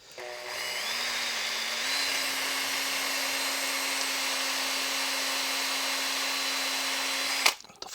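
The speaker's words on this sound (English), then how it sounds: "I will use a drill to make the hole wider a little bit" A handheld battery drill widens a hole in a battery-powered Christmas light case, whirring steadily at a near, even pitch that steps up slightly once, then cuts off abruptly with a short clatter at the end.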